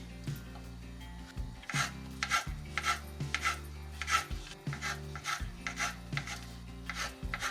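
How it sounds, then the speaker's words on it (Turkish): A knife chops mushrooms rapidly on a cutting board, quick repeated taps in an uneven rhythm, close and clear with no talking. "Mantarları da şöyle doğrayacağım."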